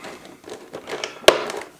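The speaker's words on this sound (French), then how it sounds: "si vous entendez du bruit, ne vous faites pas de soucis. C'est mon chat." Brief scratching and crinkling from a cat inside a cardboard box, a few scrapes followed by one sharper knock, close and fairly quiet.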